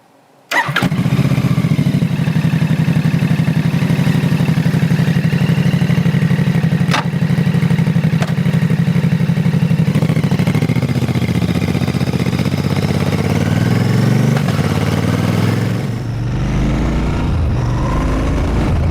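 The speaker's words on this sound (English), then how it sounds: "I hope you can hear the engine and the exhaust working in harmony together there" A Royal Enfield Bear 650cc parallel-twin motorcycle rides along on the road, its engine and exhaust droning loudly and steadily up close, with pitch shifts as it changes pace and eases off near the end.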